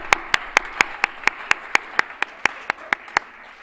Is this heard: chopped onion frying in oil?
no